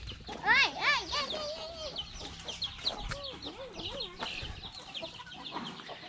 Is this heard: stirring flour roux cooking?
no